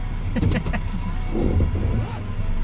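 Interior of a car borrowed from a cousin while riding inside, a steady low engine and road rumble filling the cabin, with people talking briefly over it.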